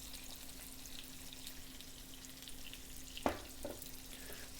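Onions frying in a pan for South Indian spiced potato, a steady soft sizzle throughout with a brief clink or stir near the end, no talking.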